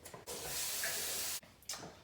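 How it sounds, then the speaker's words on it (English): Tap water pouring into a container of quick oats, a close, hissing splash lasting just over a second, with brief faint clatter before and a short trickle after. "Now I like to fill it with mass amounts of water"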